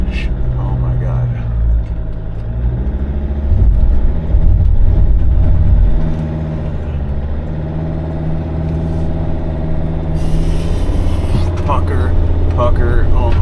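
An old diesel Sprinter van crawls along a rutted dirt road, its engine droning low and loud with a surge as the wheels slip, while someone talks over it close to the mic.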